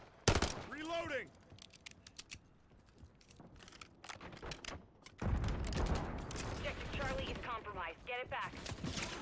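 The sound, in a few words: gunfire in Call of Duty video game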